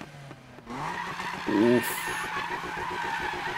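A BMW M4 in the video game Need for Speed 2015 revs its engine loudly, then its tires squeal in a skid. A man briefly reacts during the engine drone.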